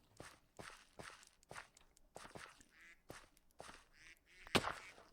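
Ducks in the video game Minecraft give several faint quacks mixed with a steady run of footsteps, ending in one louder, sharper burst.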